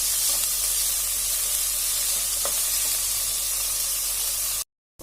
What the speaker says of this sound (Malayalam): എന്നിട്ട് നന്നായിട്ട് ഇളക്കി നന്നായിട്ട് വഴറ്റിയെടുക്കാം.